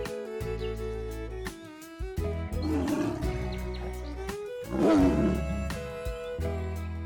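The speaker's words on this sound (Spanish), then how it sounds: "¿seguirán escuchando el rugido que resuena en la sabana?" A lion roaring on the African savanna, deep rumbling bursts rising twice over a steady bed of sustained music tones, fairly loud and up front.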